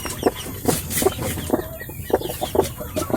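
Broody laying hens cluck in a steady series of short, repeated clucks, close by and fairly loud, with no talking.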